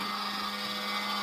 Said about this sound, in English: that fan doesn't sound normal at all